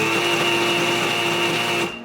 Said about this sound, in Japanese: 水を切り、ミキサーに入れて粉にします